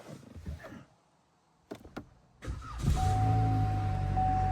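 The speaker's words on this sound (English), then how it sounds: "Car starts." A car engine cranks and fires after a few short clicks and a quiet pause, then settles into a loud, steady run with a thin whine, up close inside the vehicle.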